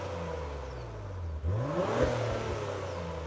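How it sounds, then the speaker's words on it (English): A 2021 Acura TLX Type S in Sport Plus mode revs its engine and exhaust, a steady idle rising into a loud, swelling rev that climbs and falls back, recorded close from outside the car. "I think the exhaust note is good."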